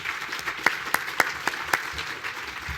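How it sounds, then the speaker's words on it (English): Applause for panel speakers at a NASA-themed conference: a crowd claps steadily with a few sharp, loud nearby claps standing out, then the clapping thins toward the end. "How about one strong round of applause for our speakers"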